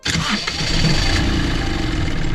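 A small engine cranks and catches, then runs loudly and steadily with a rough mechanical rattle, heard up close.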